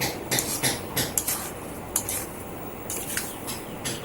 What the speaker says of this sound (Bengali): একটা খুন্তির সাহায্যে গুড়টা দিয়ে আমি ভালো করে আমলকিগুলোকে নেড়ে চেড়ে মিশিয়ে নেব।